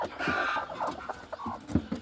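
Village hens brooding on eggs give soft, low clucks and brief murmuring calls, close by and fairly quiet, in short irregular bursts.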